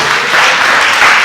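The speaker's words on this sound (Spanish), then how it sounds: "Pero apláudele, usted le iba a aplaudir." A church congregation applauds in a dense, loud, continuous wash of many hands clapping together, close and filling the room with no speech over it.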